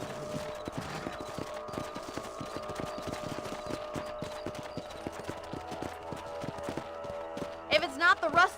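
Horse hooves clip-clop steadily while riding in the video game Red Dead Redemption, a continuous rapid rhythmic beat under a musical drone, with voices briefly near the end.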